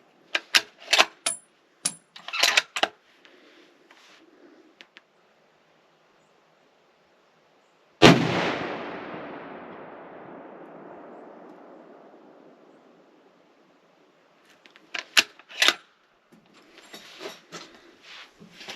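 A stainless Tikka T3 Hunter .30-06 rifle fires a single loud shot at an outdoor range, its sharp crack followed by a long rolling echo that slowly fades, with clicks and handling noises before and after.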